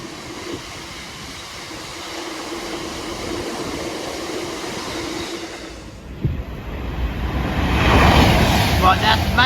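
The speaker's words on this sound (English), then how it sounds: "here comes a freight movement from Wilston to New Bilton Jarvis Semix. 66951." Class 66 locomotive 66951 hauls a freight train from Wilston to New Bilton past Watford Junction, a low rumble that gives way to a sharp, loud rush and clatter of wagons close by, with faint voices in the background.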